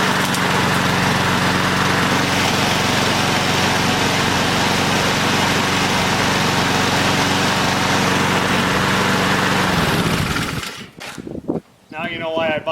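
Husqvarna lawn mower engine running loud and close with a steady drone for about ten seconds before cutting off, followed by someone talking.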